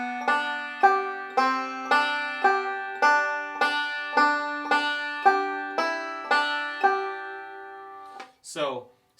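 Banjo notes ring out in rolls on the second string in a steady, repeating pattern, about two strikes per second, each decaying before the next, ending with a brief scrape.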